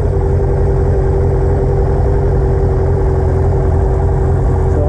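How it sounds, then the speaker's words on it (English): A Fiat 2-liter performance engine built with lightweight parts runs loud and close with a steady, droning tone. It stays even throughout and lifts slightly at the very end, with no voices. "With all the lightweight parts, it lets these 2 liters just rev like crazy."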